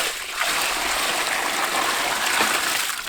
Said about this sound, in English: After you get the sand and the dirt, you gotta put water in it.